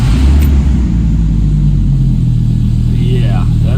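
A 1995 Dodge Viper R/T 10 roadster's V10 rumbles loud and close inside a building, a deep steady engine drone as it starts up, with a voice audible over it.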